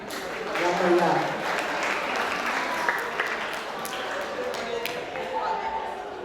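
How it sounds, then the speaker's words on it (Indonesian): An audience claps in sustained, lively applause at a school graduation and farewell ceremony, a dense wash of clapping that swells early and then holds steady, with some voices mixed in. "tepuk tangan yang meriah"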